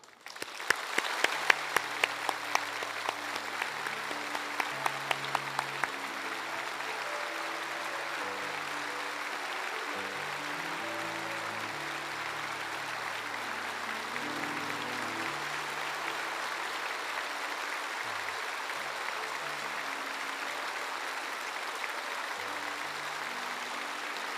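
A church congregation applauds warmly as the senior pastor and his wife come forward, steady dense clapping filling the room, with a few louder claps early on and organ or keyboard chords sounding underneath throughout.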